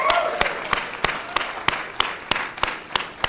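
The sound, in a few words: audience applause at Nasdaq opening bell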